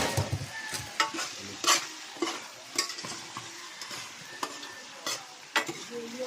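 Food being sautéed and stirred in a pan, with steady sizzling and frying under repeated scraping and clinking strokes of a utensil against the pan.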